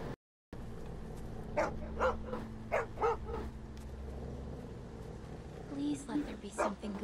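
A dog in The Walking Dead video game barks and whimpers in a short run of yips near the middle, with voices talking around it.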